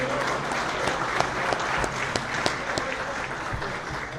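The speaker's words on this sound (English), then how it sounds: "How about one more big round of applause for our executive support at Long Beach City College?" A crowd applauds at a Long Beach City College Hall of Champions awards ceremony, steady dense clapping that holds for several seconds without talk.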